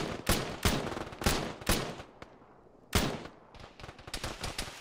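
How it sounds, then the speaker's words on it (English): Loud, close gunfire in an Arma video game (ShackTac) rings out in several sharp bursts and single shots with short pauses between them, followed by a rapid scatter of quieter shots. "I'm shooting at muzzle flashes."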